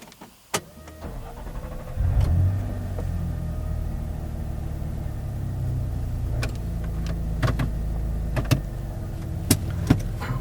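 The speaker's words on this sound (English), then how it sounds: "All right, so I'm going to start it up now" Supercharged 2011 Nissan Xterra engine cranking and catching, then settling into a steady, close idle rumble with occasional clicks and taps.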